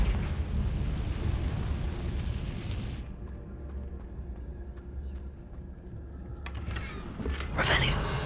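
Confringo blasting spell going off in Hogwarts Legacy, a loud booming explosion with a rumbling roar that cuts off partway through, followed by a softer rumbling tail and a late burst of crackle.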